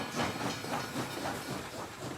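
An early-twentieth-century locomotive and its carriages run along the Trieux river line in Brittany, giving a steady hissing, rumbling rush with a faint rhythmic pulse, heard alone.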